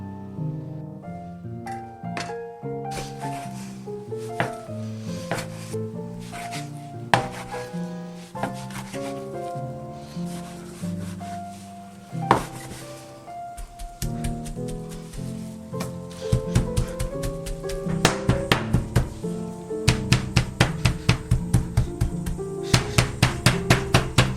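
Meat is chopped by hand, blade knocking sharply on a board, irregular at first, then quickening into fast, steady, loud chops.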